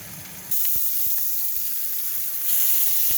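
A steak frying in a pan on an indoor stove gives a steady, close sizzle that swells louder at the start and again near the end, with a few faint clicks of the pan, and no talking.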